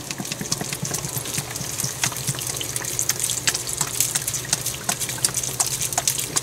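Water running steadily from a tap to cover freshly picked dandelion flowers for making dandelion honey, a continuous close splashing gush with no voices.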